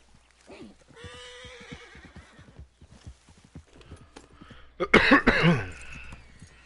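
In Red Dead Redemption 2, a horse whinnies near the start, followed by scattered soft clops and a loud snort or blow near the end, with faint voices in between.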